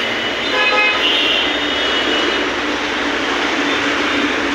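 Heavy traffic roars past on the Dhaka–Chittagong highway, a loud continuous wash of engine and tyre noise with a horn tooting briefly near the start.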